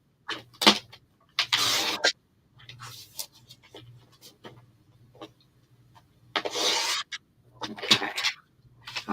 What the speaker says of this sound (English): I'm going to cut it in 1 1/2 inch strips the long way